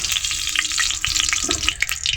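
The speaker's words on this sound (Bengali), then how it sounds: "কড়াইয়ের মধ্যে প্রথমে সয়াবিন তেল দেওয়া হলো" Soybean oil sizzles loudly in a wok, a dense close crackle with scattered sharp pops and light stirring, continuous throughout with no talking.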